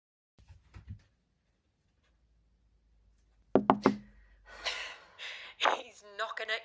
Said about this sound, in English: He's knocking at your door.